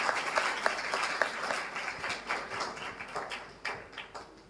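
Congregation at a Christmas Sunday women's fellowship service in a Baptist church in Harappa applauding, a steady wash of many hands clapping with sharper individual claps at moderate volume, fading slightly toward the end.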